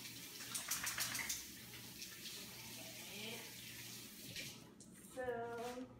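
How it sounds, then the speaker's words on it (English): Water runs from a kitchen tap as hands are rinsed, a steady close hiss of flow with a brief splashy burst near the end and low background noise. "I just got to rinse my hands off."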